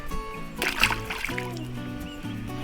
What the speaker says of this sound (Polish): Puszczamy rybkę do wody.